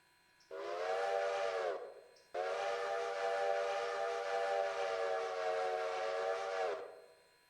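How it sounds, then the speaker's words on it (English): Steam locomotive whistle in the train game Railroader, two loud sustained blasts, a short one followed by a long exaggerated one, each ringing out alone with no talk over them. "Give a bit of an exaggerated whistle."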